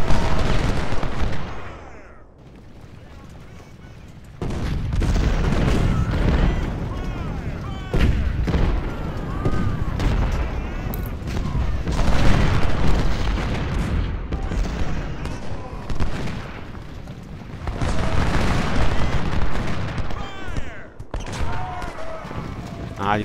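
Cannon and artillery fire from the Gettysburg battle in Ultimate General: Civil War, repeated booming shots and battle noise running throughout, loud and dense, with someone talking over it.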